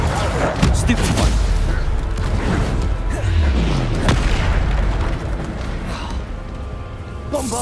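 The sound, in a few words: Stupefy spell effect in Hogwarts Legacy video game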